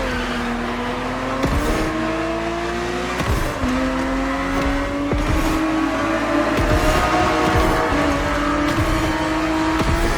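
A Ferrari 365 GTB4 engine in The Crew Motorfest, steady and loud with a rising tone through repeated upshifts, each gear change breaking the pitch before it climbs again, alone without voices.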